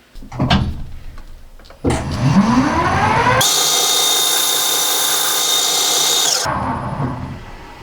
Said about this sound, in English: So I'm going to go cutting, cutting, cutting, cutting, hit the stop, and back out.